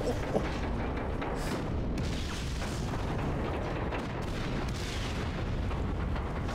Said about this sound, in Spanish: Hay explosiones inesperadas, Rico volando.